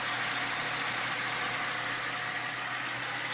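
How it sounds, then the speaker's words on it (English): A Ford Mustang engine idles with hydrogen-assisted (HHO) combustion, giving a steady, smooth, close continuous hum with no clear knocking or shaking. "So as you can hear, the engine is really, sounds really different, and it's not shaking at all."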